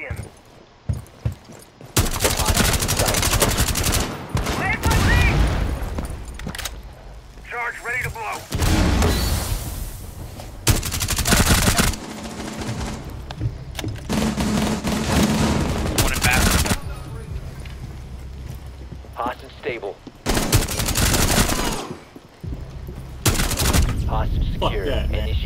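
Heavy gunfire during a Rainbow Six Siege hostage round, with loud bursts of automatic fire and booming shots that come in repeated waves. Brief quiet gaps separate the volleys, and voices are heard between them.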